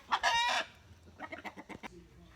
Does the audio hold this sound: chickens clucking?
yes